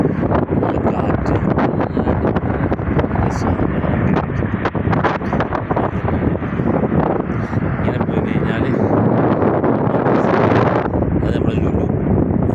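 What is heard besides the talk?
strong wind blowing on the road near Mecca and Jeddah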